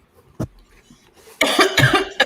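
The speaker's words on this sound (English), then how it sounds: "I was really coughing" Several sharp, loud coughs from someone close by, a brief one first and then a harsher burst of coughing.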